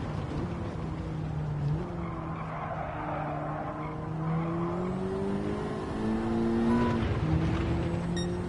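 Race car in Gran Turismo 7 at Road Atlanta braking hard, tyres squealing and skidding in sustained sliding tones over a steady engine drone, continuous and loud throughout.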